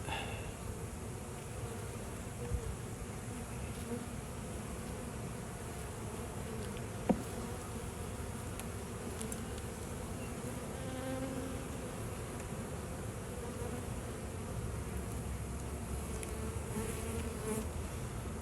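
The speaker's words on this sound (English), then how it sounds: "And hatching bees on that frame." Honey bees buzzing at an open hive during an inspection, a dense, even hum that carries on throughout at moderate level, with a faint click partway through and no speech.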